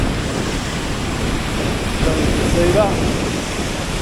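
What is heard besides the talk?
waterfalls flowing down near the Atlantic Road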